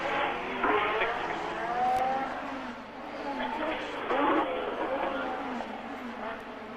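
Formula 1 cars, including the two Williams, race through the Monaco tunnel at the Grand Prix. Their engine whine rises and falls as they pass, under continuous commentary.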